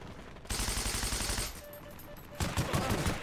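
Gunfire in the World War II shooter Heroes & Generals: bursts of loud, rapid close-range shots, one sustained volley, then a brief lull and another burst of shots.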